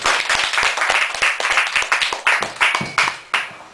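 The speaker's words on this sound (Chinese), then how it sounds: "让大家掌声欢迎黄厚明老师。" An audience claps in applause to welcome a speaker at a lecture, a steady patter of many hands with a few sharper claps standing out near the end.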